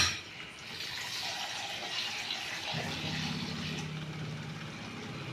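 Running water splashes steadily from a tap, a continuous hiss that deepens into a fuller gush partway through as a mixer jar fills and is rinsed.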